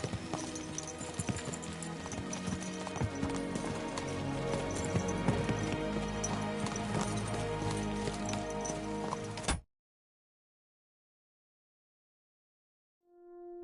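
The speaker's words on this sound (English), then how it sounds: "Let's really spur these horses on, eh?" Horses galloping in Kingdom Come Deliverance II, with loud, steady hoofbeats over a dense game soundtrack for about ten seconds before stopping abruptly, followed by a few seconds of near silence and a faint tone at the end.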